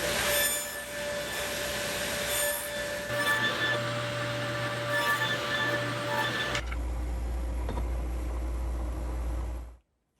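A table saw with a dado stack runs through old wood studs. A loud steady whine is joined by a low droning hum partway through, then everything cuts off abruptly at the end.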